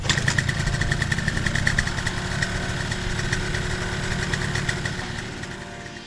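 A Honda Aero two-stroke scooter engine runs steadily during cylinder break-in, warming up to operating temperature with a close, buzzing, rapid putter that stays even throughout and eases off slightly at the end, with no talking.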